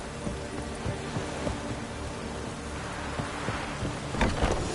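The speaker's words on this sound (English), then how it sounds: "Looks like rain" Steady rain hiss with low rumbling thunder rolls in a PS4 video game, a dense wash of falling water throughout with a brief louder swell near the end, with no voices.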